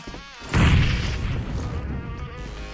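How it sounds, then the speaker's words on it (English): A grenade explodes in PUBG Mobile on the Miramar race track map, a sudden loud boom that fades into a rumbling tail over steady game noise. "Oh, that nade! He's gonna nade himself."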